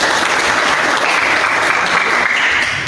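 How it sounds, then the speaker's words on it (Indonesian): Loud, dense applause from an audience at an automotive engineering teaching performance assessment fills the whole moment, continuous and close with no speech over it. "Tepuk tangan."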